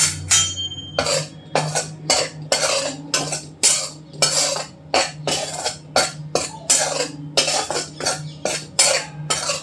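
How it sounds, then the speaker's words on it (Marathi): Dry wheat flour roasting in a hot kadhai over low heat, stirred with a spoon that scrapes and clinks against the metal in a steady rhythm of short strokes, close and clear with no talking. "अगोदर आपण सुकं पीठ भाजून घेणार आहोत"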